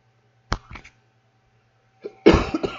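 Two coughs in a quiet room: a short dry one first, then after a pause a harsher, longer cough.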